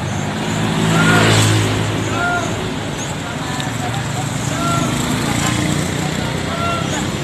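A Garuda Mas coach pulls out of Terminal Gubeng in the late afternoon, its engine rumbling and rising as it moves off. Station noise fills the background and voices talk nearby.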